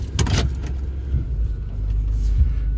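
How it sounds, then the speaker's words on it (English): A 1992 Buick Roadmaster that has been sitting for a while pulls away with a low engine rumble, a few thumps and knocks early on, and a steady idle-to-drive drone building slightly toward the end. "Let's go for a drive."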